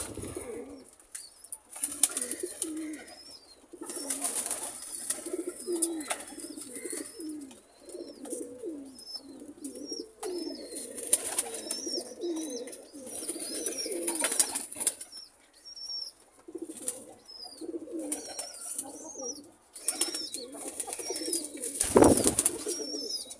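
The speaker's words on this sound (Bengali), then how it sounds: "দেখুন খুব ভালোভাবেই কিন্তু কবুতর খায়" Pigeons cooing continuously in a steady flock chorus while eating mixed grain feed combined with old cooked rice, with wing flaps and scattered higher bird chirps, close and fairly loud with no talk.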